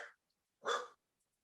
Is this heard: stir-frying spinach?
no